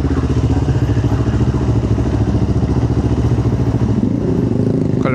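Motorcycle with a fairing idling and creeping through congested Kuala Lumpur traffic, a loud, steady close-up engine rumble with some clatter throughout and a brief higher whir at the end.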